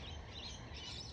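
Lorikeets call in Queensland as a storm approaches. A brief wash of faint, high chirping and screeching sounds from a distance for just over a second.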